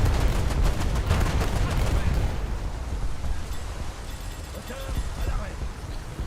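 Dense bursts of gunfire and heavy combat noise from a naval battle video game, loud and continuous for the first two seconds, then a rumbling mix with scattered shots and faint electronic tones.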